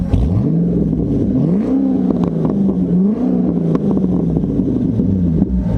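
A C6 Corvette engine revs repeatedly through a Borla S-type exhaust, a loud, close, deep burble rising and falling in pitch with each blip of the throttle.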